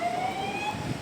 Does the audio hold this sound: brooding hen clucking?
no